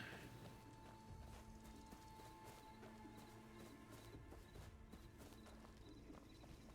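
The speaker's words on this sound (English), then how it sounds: "Sorry, horse, I already have another horse." Horse hooves clip-clop steadily at a walking pace in the wuxia video game Where Winds Meet, a continuous mid-distance rhythm layered over game ambience and a faint musical tone.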